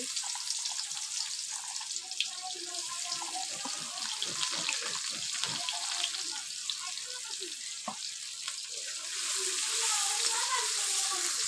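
Steady hissing sizzle of onions frying in leftover fish-frying oil in a wok, with occasional stirring scrapes and clinks, growing slightly louder toward the end.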